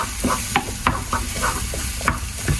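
Eggs scrambled in a pot on an electric stove, with a spoon scraping and tapping in a quick, irregular rhythm over a low sizzle, close and moderately loud, with no talking.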